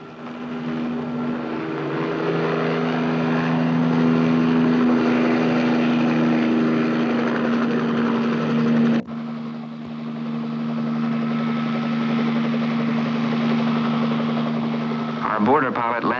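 Military aircraft set down at the 2nd Armored Cavalry Regiment barracks area in the 1950s, giving a steady, loud propeller engine drone with a low hum that continues throughout, briefly cutting and resuming midway.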